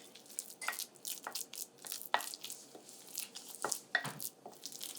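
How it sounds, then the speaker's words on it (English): Spoon working mashed banana and oatmeal into a sticky paste, with repeated close wet squelching and clicking scrapes against a bowl in an irregular rhythm. "using a spoon, we're now going to mix our oatmeal and bananas together to make a paste"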